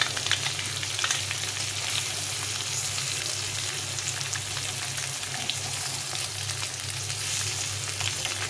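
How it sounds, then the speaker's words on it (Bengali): Duck eggs fry in a pan over lowered heat, producing a steady, dense crackling sizzle that holds evenly throughout at close range. "ডিমগুলো ভাজতে সময় লাগবে না, অল্প সময়ে ডিমগুলো ভাজা হয়ে যাবে"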